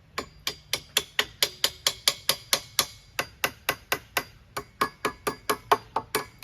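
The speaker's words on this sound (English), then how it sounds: "hammer it till it's flush" Steady, rapid hammer blows driving a metal joist hanger into a notch in a wooden shed rafter, about two dozen sharp strikes in quick succession with a few short pauses, loud and close.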